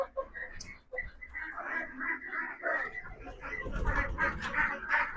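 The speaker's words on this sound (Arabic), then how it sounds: "طبعا بط البطاطا قدامكم اهو" Muscovy ducks call close by in a poultry pen, a busy stream of soft, overlapping raspy notes that grows denser toward the end.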